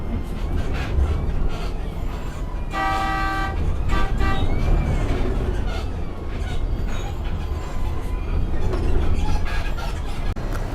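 A bus horn honks repeatedly in Ho Chi Minh City traffic, with a loud tonal blast near the middle over the constant rumble of the moving bus and the surrounding street noise.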